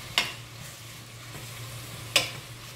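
Tripe fries in a pan with cumin and garlic, giving a soft, steady sizzle with two sharp scraping stirs about two seconds apart; nobody talks.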